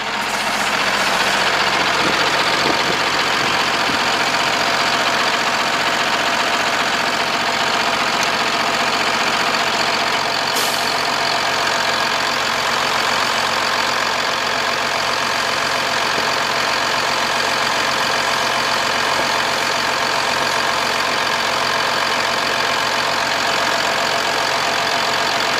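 A 2008 Freightliner Business Class M2 106 service truck with an ISB 6.7 Cummins diesel idles close by, a loud, steady rumbling drone that holds unchanged throughout with no talking.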